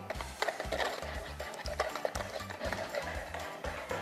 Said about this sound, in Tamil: ஓகே, இப்போ எக்கும் சுகரும் பீட் பண்ணிட்டுருக்கீங்க.